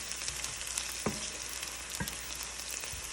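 Thai chilies and a dry red chili frying in oil in a pan, a steady bright sizzle with a few louder stirring knocks, close and continuous with no talking.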